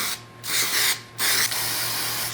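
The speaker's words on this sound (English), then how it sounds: "I have some color match." Color-matched spray paint hisses from an aerosol can onto a Fox Body car part in two close, loud bursts, the second held longer, with no talking.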